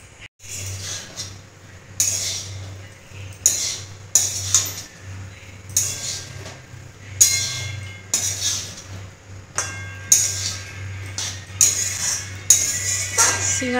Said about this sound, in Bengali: মশলাটা আমি আবার আলুর সঙ্গে ভালো করে নেড়ে নেব